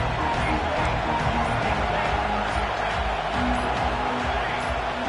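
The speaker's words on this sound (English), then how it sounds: "with this place rocking, the crowd forces a false start" Roaring stadium crowd at an American football game, a dense continuous wall of noise that stays loud and steady throughout, loud enough to force a false start, with faint voices buried in the din.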